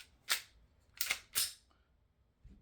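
Accessory sliding onto a PSA Micro Dagger pistol, giving three sharp, close metallic clicks in quick succession and a faint soft knock just after, with no talking.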